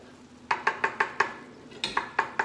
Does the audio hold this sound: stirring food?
yes